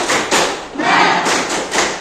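Students at MAN 2 Bandung doing the tepuk semangat cheer, a group of hands clapping in a quick rhythmic pattern of several claps and thuds, loud and close in a classroom.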